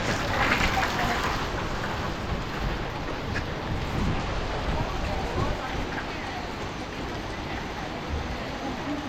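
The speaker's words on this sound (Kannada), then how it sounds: "ಮಳೆ" Steady heavy rain pours down close by, a dense continuous hiss and patter with no letup, at Horanadu temple.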